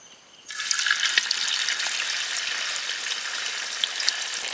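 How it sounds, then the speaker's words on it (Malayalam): Chicken pieces dropped into hot oil set off a sudden, loud, steady sizzle that carries on with faint crackles, heard up close with no talking. "ഇത് എണ്ണയിലേക്കൊന്ന് ഇടുകയാണ്."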